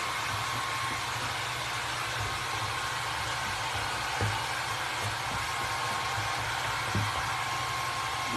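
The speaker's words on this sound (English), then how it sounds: "Sorry about all the hair drying." A hair dryer blowing on Mod Podge, a steady loud rushing whoosh held evenly throughout, with a faint low hum and a couple of soft knocks, no voices.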